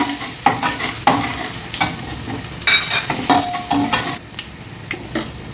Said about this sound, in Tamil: மஞ்சத்தூள் கொஞ்சம், பூண்டு கொஞ்சம் ப்ரௌன் கலர் ஆகட்டும்.